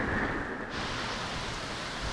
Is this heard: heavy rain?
yes